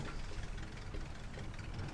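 A tractor engine idles in Farming Simulator 22, a low, faint, steady knocking rumble running continuously without talk.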